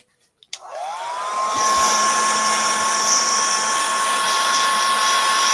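A hair dryer blasts over a resin painting, switching on with a rising whine that settles into a loud, steady whirring roar, close and alone.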